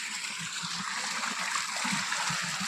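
Water pumped by an Oswal 5 HP and 3 HP solar pump on a farm pours and splashes steadily, gurgling faintly in the background with no talk.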